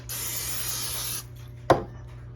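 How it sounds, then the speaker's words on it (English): Non-stick cooking spray hisses from an aerosol can onto grill grates in a steady burst lasting about a second, close and clear, followed by a single sharp clack. "don't forget to spray your grates with a little non-stick"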